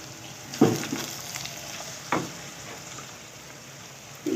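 Minced meat keema is stirred with coriander, cumin and coarsely crushed black pepper in a pan for khara masala keema, with a low steady sizzle broken by a few scraping strokes of the spoon.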